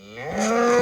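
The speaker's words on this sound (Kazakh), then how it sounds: "Опа, қаншама сиырымыз бар мына жақта." A cow lowing near a farm, a single rising moo under a second long, close and clear, swelling in loudness and heard alone without speech.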